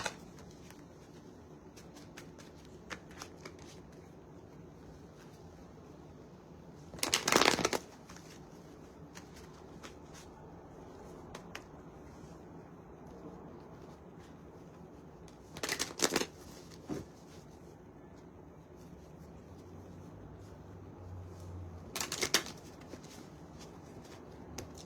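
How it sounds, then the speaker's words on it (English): Three separate bursts of playing cards being shuffled, each a quick riffling flutter, over a quiet room with faint background rustle. "Let me shuffle my cards again."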